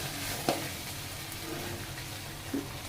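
Onions with ginger garlic paste sautéing in a pan for a capsicum egg gravy, a soft, low sizzle with two brief scrapes of a spoon against the pan.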